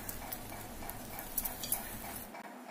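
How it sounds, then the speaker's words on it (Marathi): Kacchi dabeli toasts in butter on a pan and is turned with a spoon, giving a faint, steady sizzle with a few soft scraping and tapping contacts of spoon against pan. "ह्या बटर टाकून दाबेली सर्व बाजूनी व्यवस्थित अशी खरपूस भाजली गेली पाहिजे। आपण आता चमच्याने पलटी करूया"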